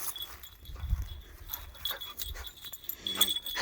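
A female dog outdoors pants and whimpers in short uneven bursts, close by and moderately loud, against faint outdoor background noise.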